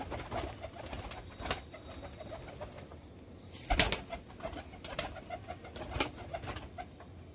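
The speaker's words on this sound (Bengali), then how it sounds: "এই 5টা হচ্ছে আমার ঘরের পায়রা" Domestic pigeons kept at home coo repeatedly in a soft, low rhythm close by, with a few louder bursts of wing flapping or movement around the loft.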